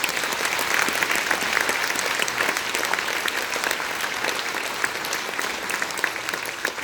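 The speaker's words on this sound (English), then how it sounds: "would you please raise your hand so we can give you a big round of applause" A school concert audience applauds steadily for student All-State auditioners, a dense, even wash of clapping from many hands filling the hall throughout.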